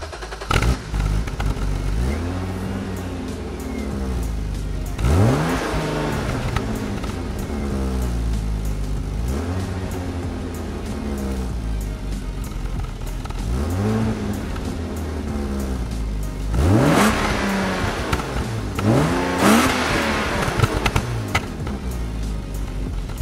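BMW E36 with a new eBay cat-back exhaust revving repeatedly, several rising and falling engine sweeps with loud peaks near the end, heard close with a steady idle between pulls and no talking.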